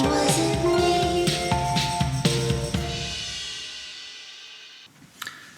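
Music processed through the AudioThing Vinyl Strip plugin with a vinyl crackle effect, a melodic track with steady beats whose faint surface crackle sits beneath it, fading out before a brief final burst.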